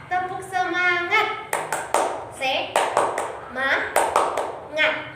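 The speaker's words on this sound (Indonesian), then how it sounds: "mari kita tepuk semangat" Schoolchildren clap in short rhythmic bursts for a classroom spirit cheer, sharp claps alternating with children's chanting voices, fairly close and lively.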